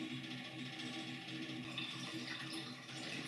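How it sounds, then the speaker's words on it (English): Film fixer liquid pouring from a canister into a container during film developing: a quiet, continuous trickling and splashing stream heard close up and alone for a few seconds. "we open up our canister and we pour it"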